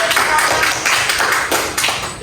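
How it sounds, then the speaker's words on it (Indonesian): Students in a biology classroom clap together, a dense burst of hand claps with uneven rhythm running steadily throughout, fairly loud and close. "Beri tepuk tangan."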